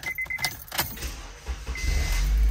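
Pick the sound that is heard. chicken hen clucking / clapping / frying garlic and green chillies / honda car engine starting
honda car engine starting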